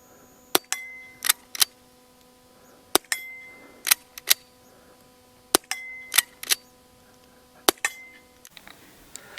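Colt Lightning small-frame revolvers fire a string of about a dozen sharp, ringing gunshots at an uneven pace, loud and close, with brief metallic clinks between some shots.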